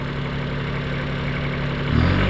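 A Kubota tractor working a sugarcane field keeps up a steady, close mid-to-low engine drone, with the pitch and load rising slightly near the end.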